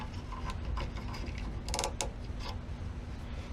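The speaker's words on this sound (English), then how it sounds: "Okay, now I'm going to use a dial caliper to check where I'm at." A dial caliper measures a milled wood block for a hollow spiral candle holder, giving quiet mechanical clicks and small creaks in a brief close-up burst over a low background hum.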